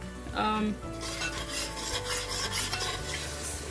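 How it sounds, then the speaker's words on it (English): Curry masala with ginger garlic paste frying and being stirred in a pot over low heat for a beef shank nihari, a steady close sizzle with scraping stir strokes and light pot clatter. "Continue cooking on low to medium low for about 5 minutes till all of your powders and the ginger garlic paste have cooked really well"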